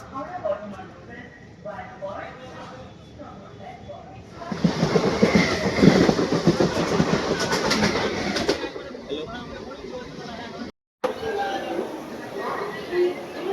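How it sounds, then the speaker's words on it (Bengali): A train pulls into a station platform, its rumble swelling loudly for several seconds amid crowd noise and people talking, then easing off. "ওই যে ওইদিকে ট্রেন ঢুকছে"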